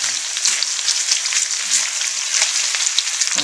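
Continuous bright crackling sizzle of tocino (sweet cured pork) frying in hot oil in a wok, with small pops throughout and no talking.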